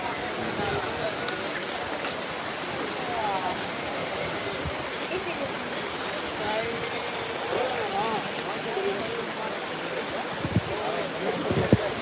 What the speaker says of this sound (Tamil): ஸ்லோவாக விழுறது அழகாக அந்த நுரை சில்வர் ஃபால்ஸ் மாதிரி